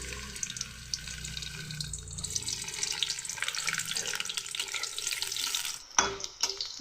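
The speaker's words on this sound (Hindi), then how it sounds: "तेल हमर गरम हे गलानी आमे इधर फर्स्ट कोबी दे दबा।" Cabbage frying in hot oil for a left-over rice dish, a steady hissing sizzle that runs throughout, with a few louder clatters near the end and no talking.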